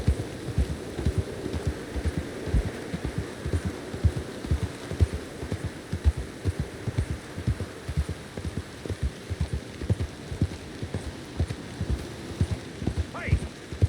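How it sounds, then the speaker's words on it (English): Steady, rhythmic horse hooves clip-clopping in the rain in Red Dead Redemption 2, with a soft wash of rainfall behind the regular beat throughout. "I really need to go on horseback, otherwise I'm sure the rain will have stopped once we're there"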